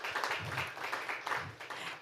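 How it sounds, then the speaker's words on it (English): Brief round of applause from a conference audience for a project team at an EU-Africa discussion event, dense clapping throughout at moderate level, no talk over it. "A round of applause, please, for the team."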